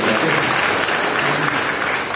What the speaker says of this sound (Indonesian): Tepuk tangan dulu yang paling baik.